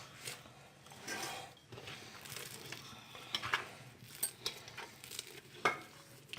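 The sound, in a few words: roasting ingredients in a pan for halwa puri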